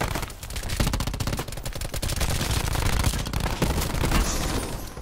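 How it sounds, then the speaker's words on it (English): Rapid automatic gunfire from a Call of Duty Black Ops 4 match on the Alcatraz map, dense bursts of shots filling nearly all five seconds at steady loudness with no talk over them. "Oh, he's shooting at me."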